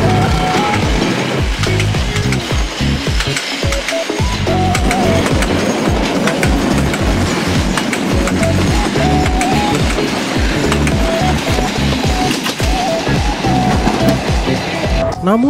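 A CC 204 diesel locomotive hauling a train of carriages in Bandung, with loud continuous rumbling and rhythmic wheel clatter over rail joints, close by and sustained throughout.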